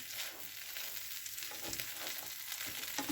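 Steady, crackling sizzle of butter frying in a pan, continuous and fairly quiet with small pops throughout.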